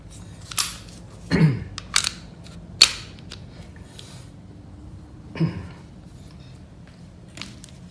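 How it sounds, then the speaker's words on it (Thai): A handgun's slide is racked and locked back while the pistol is cleared before cleaning, giving a handful of sharp, separate metallic clicks and clacks close by in an otherwise quiet room. "เดี๋ยวขึ้นทางสไลด์ไว้นะครับ"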